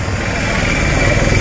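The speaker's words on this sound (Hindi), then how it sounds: "देखते हैं गाड़ी का भाई स्टॉक साउंड कैसा है गाड़ी का" A new superbike with its stock exhaust idles nearby in a steady, even low rumble that holds at a constant level throughout.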